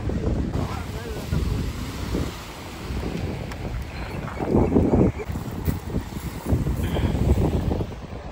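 Sea waves at St Mary's Island, Malpe, washing in as the tide rises, with steady wind buffeting the microphone; a continuous broadband roar with surges of surf near the middle, heard alone at a fishing spot.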